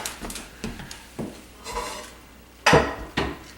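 Metal pots and pans clank and scrape as someone rummages through them, with a few sharp knocks and a louder clatter near the end.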